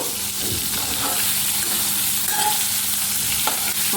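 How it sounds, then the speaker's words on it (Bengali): A piece of katla fish sizzles in hot oil, a dense close crackle with brief scraping and stirring sounds as the piece is handled in the pan. "মাছের এক পিসটা ভাজা হয়ে গেছে আমি উল্টে নেব"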